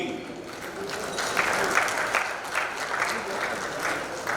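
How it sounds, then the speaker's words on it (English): Audience applause for a panel discussion guest, many hands clapping as a steady, fairly loud wash that builds slightly after the first second, with faint voices underneath. "Can we please have a huge round of applause"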